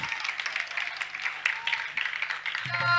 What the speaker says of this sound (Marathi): टाळ्यांचा कडकडाट पाहायला मिळाला कोटोळे संघाकडून सँडी.